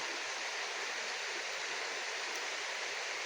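Steady broadband rush of river water flowing, a continuous close hiss like a stream or small rapids with no pauses and no voices.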